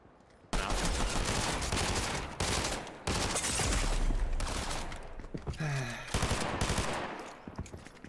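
Sustained gunfire in Fortnite, fired at a fence, with dense bursts of rapid shots filling most of the clip, near and loud, pausing briefly between volleys.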